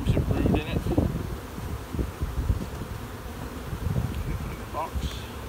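Honey bees swarm around an opened hive with frames of brood and honey, a dense close buzzing with individual bees droning past the microphone and faint rustling beneath.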